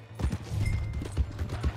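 Horse hooves clip-clop in Red Dead Redemption 2 as a horse is ridden through the frontier town of Valentine, with a quick run of uneven thuds up close under background game noise.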